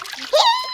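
Toddlers splash in a backyard pool in The Sims 4, a short bright watery splatter with a small childlike vocal tone over it, close and fairly loud.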